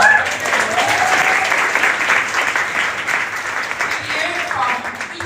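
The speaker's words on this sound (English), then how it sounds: "I think one more round of applause to our" Audience applause at a Trim and Fit session, steady broadband clapping from a crowd sustained throughout, with some talking underneath.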